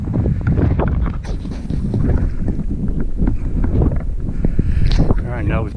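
Wind buffeting the microphone on a mountain summit in the Wichita Mountains, a loud continuous rushing roar that runs under a man's speech for the whole stretch.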